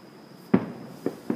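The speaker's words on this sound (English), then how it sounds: "They're like testing the fireworks for New Year's." Fireworks set off at night around New Year's, heard as one sharp nearby bang followed by two softer, more distant pops in quick succession against a quiet background.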